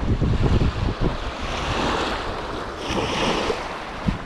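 Sea waves washing onto the shore at a beach used for carp fishing, a steady loud rushing surf with strong wind buffeting the microphone and no talk.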